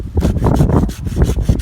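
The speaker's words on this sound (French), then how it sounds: "on va essayer de la scier par ici" A hand saw cutting through a fruit tree branch during pruning outdoors, giving a close, loud rasping in steady back-and-forth strokes with light wind noise.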